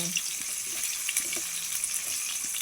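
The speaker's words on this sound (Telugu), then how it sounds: "ఉల్లిగడ్డల ముక్కలు ఇవన్నీ కొంచెం కలరు చేంజ్ అయ్యేటట్టు మగ్గించుకున్నాం" Onion pieces sautéing in a hot pan, a steady, even sizzle that stays close and constant without breaks.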